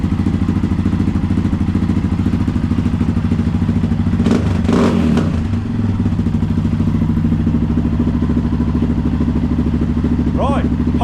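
Kawasaki KX450 dirt bike engine idling nearby, a loud, even, rapid mechanical thrum with a brief clattering burst in the middle, while people talk over it.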